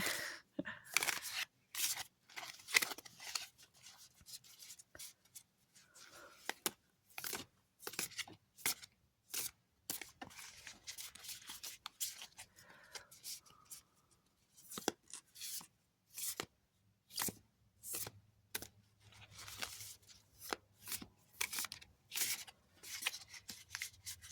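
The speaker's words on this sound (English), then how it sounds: "see the drag when you're shuffling?" Someone shuffles a deck of skeleton tarot cards up close and quietly. There are repeated short papery riffles and slaps in irregular bursts with small pauses between them, and no talking.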